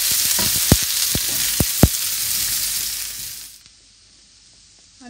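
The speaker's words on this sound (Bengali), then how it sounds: "এবার এটাকে ফ্রাই করব।" Salted potatoes fry in hot oil with a loud, close hiss and a few sharp taps from stirring, then the sizzle drops away suddenly into near silence.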